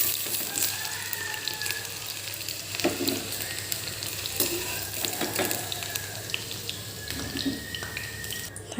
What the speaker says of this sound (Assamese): ফ্ৰাই হৈ গৈছে অলপ